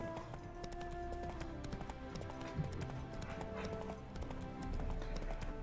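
Horse hooves clip-clop at a steady galloping rhythm in The Witcher 3, a continuous even beat over ambient game music, with no talking.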